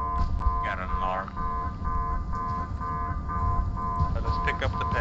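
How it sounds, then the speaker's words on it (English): A car alarm in the video game Arma 3 sounds continuously in repeating electronic tones, mixed with gameplay noise and voices talking over it. "Got an alarm."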